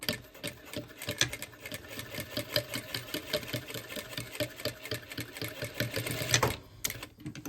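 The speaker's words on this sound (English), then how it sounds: "I'm sewing this from the outside, like the right side of the fabric" A sewing machine stitches along the right side of a garment during a clothing alteration, its needle ticking in a rapid rhythm of short bursts, faint but close, before stopping near the end.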